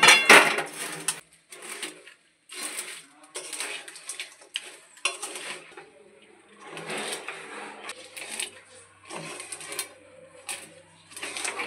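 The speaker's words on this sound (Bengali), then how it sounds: "বেশ নাড়াচাড়া" Chickpeas (chana) are stirred with jaggery in a pan for sweet laddus, giving intermittent scraping and clattering bursts with short quiet gaps, close and fairly loud.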